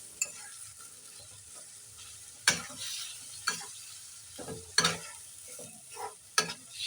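Sliced banana flower (thor) being stirred and fried in a pan, with scattered spatula scrapes and taps over a soft, steady sizzle, close and fairly quiet.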